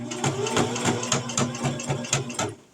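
Home sewing machine stitching fabric for a coffee cup cozy with an elastic loop, a steady rapid mechanical chatter of needle strokes running for several seconds at close range.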